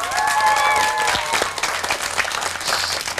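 A TV quiz show audience breaks into applause, a dense wash of clapping that stays steady and loud for several seconds, with some voices mixed in.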